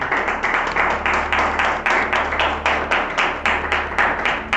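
Audience at a communication-skills seminar breaks into applause, a dense crowd clapping in pulsing waves that swell and ease repeatedly, close and loud, with a low hum beneath.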